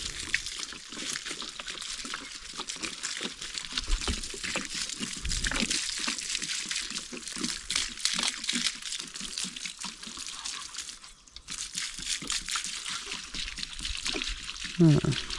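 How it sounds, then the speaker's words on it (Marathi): Water poured from the side onto young mango grafts in a Konkan village orchard, a steady broad splashing and trickling that runs nearly throughout, close by, with a person talking over it. "याला पाणी बाजूने करायला लागेल थोडंसं."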